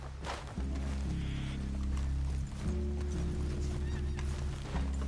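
Horses in the Red Dead Redemption 2 video game, hooves clip-clopping steadily at close range over a low rumbling bed of game sound, with a brief snort or whinny and no talk.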